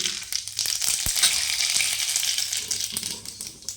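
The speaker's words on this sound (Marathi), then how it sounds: "आता आपण त्याच्यात जिरं टाकूया." Cumin and mustard seeds tempering in hot oil give a dense, continuous crackling sizzle close by, with a single low thump partway through and no talk.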